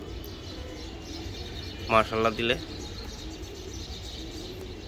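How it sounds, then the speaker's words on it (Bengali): Pigeons of two breeding lines, paired in a loft, give a brief burst of soft cooing that stands out over low background noise, with someone speaking briefly nearby. "এটা দুইটা দুই লাইনের কবুতর"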